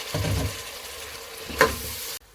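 Potatoes frying with keema in a pan, a steady sizzle with one sharp stirring scrape before the sound cuts off abruptly.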